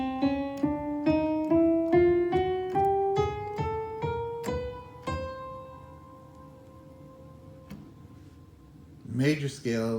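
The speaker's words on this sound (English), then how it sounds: "Using all half steps, it sounds like this." A chromatic scale played entirely in half steps on a keyboard-like instrument, about a dozen quick ascending notes ending on a held tone that decays, followed by a brief voice at the end.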